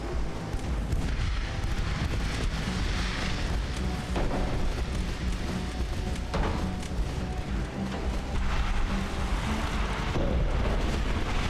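Naval combat in Ultimate Admiral: Dreadnoughts rumbles with heavy torpedo-hit explosions against a battleship, a continuous dense barrage of deep booms and blasts rolling on for several seconds without speech.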